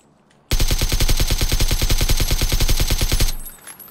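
Rapid automatic gunfire rattles in PUBG, one sustained loud burst of evenly spaced shots lasting about three seconds and then cutting off into quiet.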